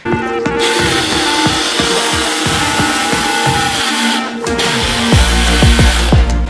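A power drill drives a screw through drywall, likely 5/8 or 1/4 inch sheetrock, while mounting an IKEA KUBBIS coat hanger on a wall without studs; a loud, close motor whine runs steadily, rising in bursts near the end.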